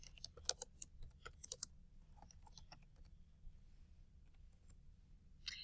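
Fingers type a title on a computer keyboard in quick, uneven bursts of light clicks and taps, close and quiet, with short pauses between runs of keystrokes.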